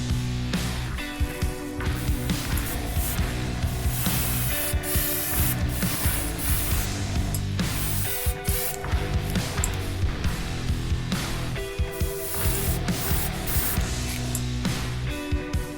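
Spray paint hisses in repeated short bursts as a light coat goes onto the secondary hull of a 1:350-scale Enterprise refit model, close and fairly quiet, with brief pauses between passes.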